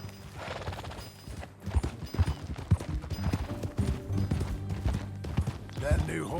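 Horse hooves clip-clop at a steady walking pace in the video game Red Dead Redemption 2, moderately close, with characters talking over the hoofbeats.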